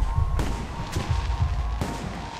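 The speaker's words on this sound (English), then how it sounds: "The noise from those fireworks should cover the sound of gunfire." Fireworks and gunfire in the video game Alpha Protocol: a rumbling barrage of low booms with a few sharp, loud bangs cracking through at irregular moments, with no voices.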